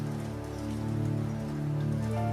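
Heavy rain falls in a steady, dense wash with no letup, close and fairly loud, the kind of downpour that would make riding a bike hard, with no voices.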